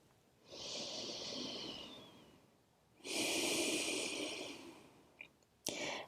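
Deep, slow yoga breaths taken during an inverted pose, two long drawn inhales or exhales up close and quiet, followed by a short sharp breath at the end.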